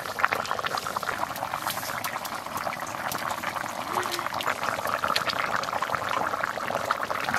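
A pot of river fish curry with drumsticks boils steadily, a continuous bubbling with crackling pops, moderately loud and with no talk over it.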